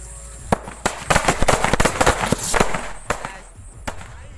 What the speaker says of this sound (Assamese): ফাইনেলি বোম ফুটাবলৈ লৈছোঁ